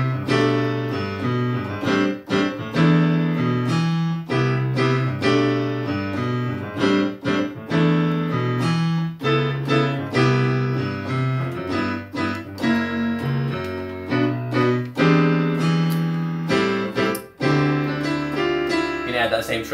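Piano rendition of a song, with a rhythmic bass line and chords layered over it, played alone as a steady, loud, syncopated groove.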